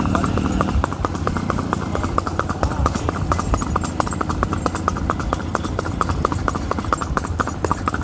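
Hooves of a Sindhi mare clip-clop at a steady walking pace, close and loud, a continuous even rhythm against faint background noise.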